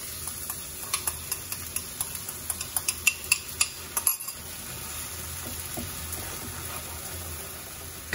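A prepared curry sauce of milk and egg sizzles softly in a pan, a low steady fry broken at first by a run of quick light clinks of a utensil stirring, then a quieter continuous hiss.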